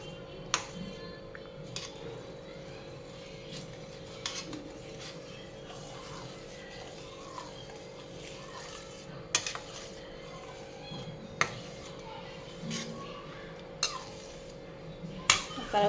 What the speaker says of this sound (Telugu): ఉండలో కట్టకుండా ఇలా కలుపుతూ ఉండాలి.